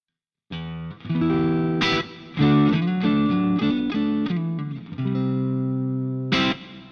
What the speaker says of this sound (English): You get these nice clean tones on the verge of breakup.